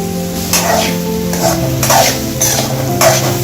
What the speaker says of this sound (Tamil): கொஞ்சம் பாதி வேகிற அளவுக்கு நம்ம வதக்கணுங்க